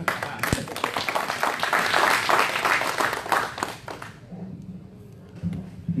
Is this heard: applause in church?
yes